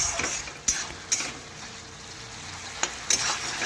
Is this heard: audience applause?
no